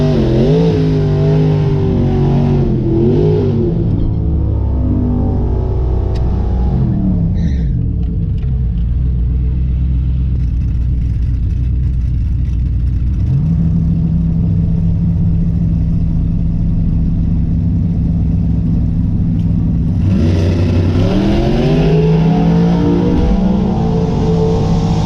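Boosted LS 6.0 car with a large intercooler launching at a drag strip, a loud rumbling engine revving, then pulling hard through rising gear sweeps before easing off and revving again, heard from inside the car.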